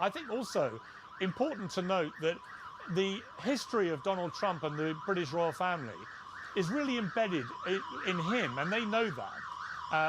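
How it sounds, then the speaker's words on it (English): Emergency sirens wail in the background with a rising and falling pattern throughout, while someone talks steadily over them in the foreground. "Apologies for the sirens going off behind me."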